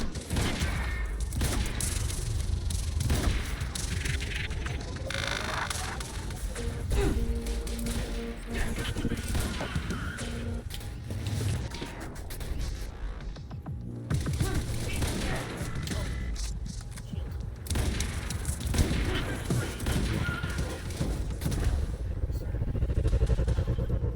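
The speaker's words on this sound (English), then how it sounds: "Wasn't expecting him to explode" A dense, loud blast-and-gunfire mix from the Quantum Break video game, with heavy thuds and sustained crackling bursts running through, briefly dipping near the middle before surging again, with talk mixed in.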